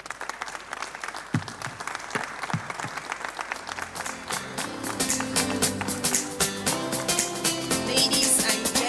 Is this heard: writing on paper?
no